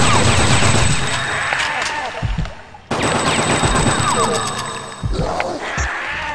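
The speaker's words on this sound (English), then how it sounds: "Bring out the machine gun." Sustained automatic gunfire from a machine gun in the video game Fear Effect: loud, dense bursts that run almost without pause, with a short break before the shooting resumes.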